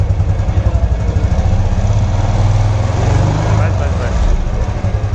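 A new Royal Enfield Classic 350 motorcycle stands still while its engine idles with a low, steady thump and is lightly blipped a little higher, close and loud under a voice.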